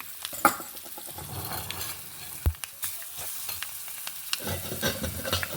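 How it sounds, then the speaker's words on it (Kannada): Spices and chopped green chillies sizzling in hot oil for a tempering in an Udupi-style cucumber dish, with a steady frying hiss, occasional stirring scrapes and one sharp clink of a utensil against the pan. "ಒಗ್ಗರಣೆ ಆಯಿತು"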